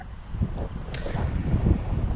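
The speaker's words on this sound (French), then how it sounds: "tu l'entends au micro, il fait du vent" Wind buffeting a microphone outdoors beside a Peugeot 806, a steady low rumbling gust noise throughout with one brief click, no talking.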